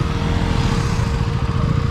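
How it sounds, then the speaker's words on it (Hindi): KTM Duke 200 and Pulsar NS200 motorcycles in a drag race, their engines producing a loud, steady buzzing roar that holds continuously and sounds close. "drag, Duke 200 BSX versus जाइनस 200 BSX,"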